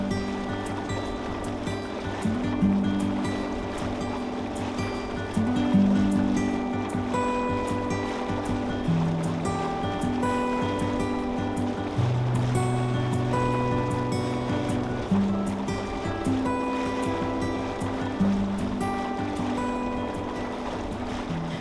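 A sailboat motors through the water in Canada. Water rushes and splashes steadily along the hull under a low engine drone, with a few faint tonal whines drifting in and out, and no voices.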